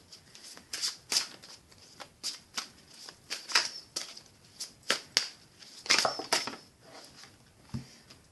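Tarot cards are shuffled and drawn in a series of quick, crisp riffles and flicks, close and irregular, with brief pauses between bursts and no voice over them.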